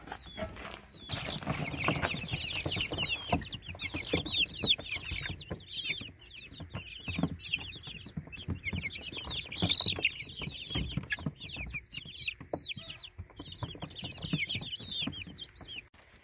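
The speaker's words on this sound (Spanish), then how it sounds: "escucho un pollito allá gritando" Busy high-pitched chirping from poultry fills the scene, a chick's shrill cheeps mixed with hens clucking, steady and close throughout.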